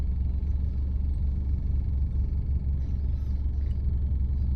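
Low, steady engine rumble of a car with a constant droning vibration, close by and unchanging, no voices.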